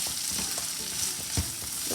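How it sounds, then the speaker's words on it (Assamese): Banana stem (posola) and small potatoes frying in oil in a pan, a steady close sizzle with occasional stirring scrapes and no talking. "এইটো মই পানীটো নিদিওঁ এইটো মোৰ পূৰা ভাজিয়ে হ'ব"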